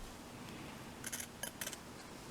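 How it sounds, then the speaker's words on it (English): Scissors snip through quilting fabric, trimming the corners of small quilt blocks on a cutting mat, giving a few quick close cuts in short bursts with quiet pauses between. "I just grab my scissors and I'm just going to cut"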